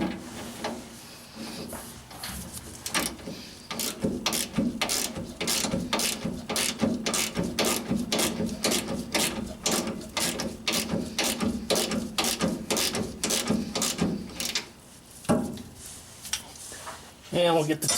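A ratchet wrench tightens the rear shock absorber bolts on a 2002 Toyota Tacoma standard cab pickup, a long run of close, rapid, evenly spaced clicks that pauses briefly once, with someone speaking over it.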